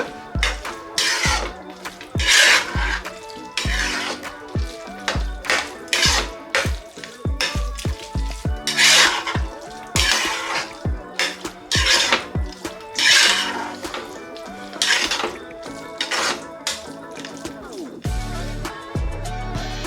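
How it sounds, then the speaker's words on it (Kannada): A spoon mixes curd rice in a bowl, giving repeated scraping and clinking strokes in an uneven rhythm, close and clear over about twenty seconds. "ಈಗ ಅದನ್ನ ಮಿಕ್ಸ್ ಮಾಡ್ಕೊಳ್ಳೋಣ."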